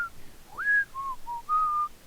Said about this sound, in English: don't tease me for my whistling